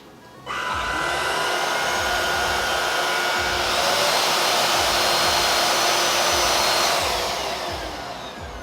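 An Oraimo Stick cordless vacuum switches on abruptly and runs at its highest power with a steady airy whine and rushing airflow for several seconds, then begins to wind down, heard alone without talk.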